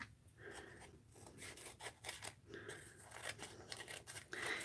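Scissors cut through a paper envelope in short, quiet snips and rasping slices. The cuts come in a loose, uneven rhythm and sound close but faint.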